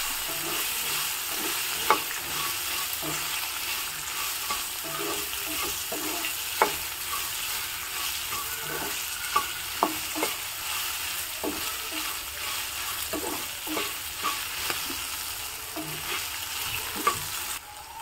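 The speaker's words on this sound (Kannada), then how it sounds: "ಬೆಂಡೆಕಾಯಿಯ ಲೋಳೆ ಅಂಶ ಹೋಗೋವರೆಗೂ ಹೀಗೆ ಹುರ್ಕೋಬೇಕು" Okra stir-fries in a pan with a continuous soft sizzle, broken by intermittent scraping clicks of a spatula turning the pieces, close and steady for the whole stretch.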